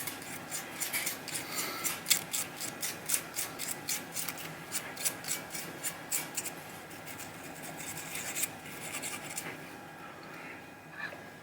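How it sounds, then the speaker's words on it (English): Sandpaper lightly rubbing the score reels of a 1972 Williams Super Star pinball machine, close-up raspy scraping strokes in a fast regular back-and-forth rhythm that loosen and fade toward the end. "I'm just going to take a little sandpaper. You can just lightly go like this on them."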